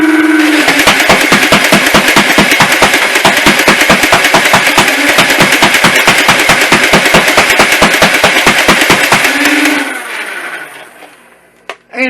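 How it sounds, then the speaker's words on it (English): Foam darts from an X-Shot Insanity Rage Fire blaster striking the back of a dart catcher in rapid full-auto succession, a loud, dense stream of regular thuds and clatter that stops abruptly near the end. "as you could hear it hitting the back of my dart catcher"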